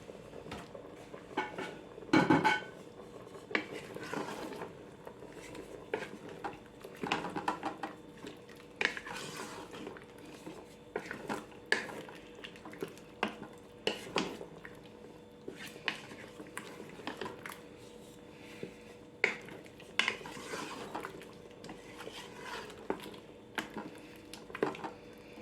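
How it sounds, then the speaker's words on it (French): Beef bourguignon with red wine being stirred in a pot before pressure cooking: intermittent scraping and clinking of a utensil against the pot, with soft wet squelches, close and fairly quiet. "Je vais bien remélanger avant de passer à la cuisson sous pression."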